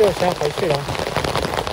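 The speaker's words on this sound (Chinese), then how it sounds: "下雨这么大，做不了什么" Heavy rain falls steadily on an outdoor surface near trees and grass by a fishing spot, a continuous close wash of drops running under a person's speech.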